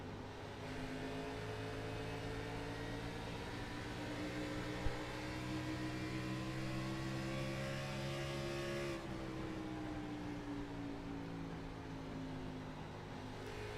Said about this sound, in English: Hear him slowly roll the throttle.